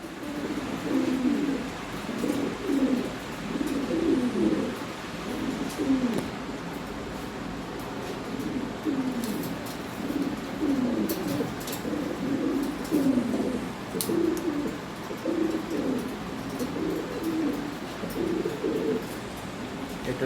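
Lahore Siraji pigeons coo steadily in a low, throaty burble, several birds overlapping in a continuous rolling murmur with no talking.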